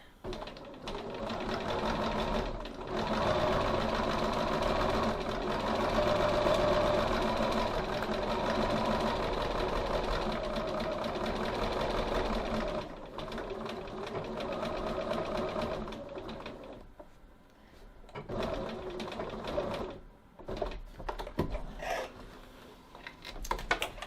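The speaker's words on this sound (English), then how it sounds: "So now I'm going to stitch 3 millimeters 1/8 of an inch around my pocket." A sewing machine stitching a pocket onto a bag lining, a close steady mechanical whirr with rapid needle clatter running for long stretches, then slowing to short stop-start bursts near the end.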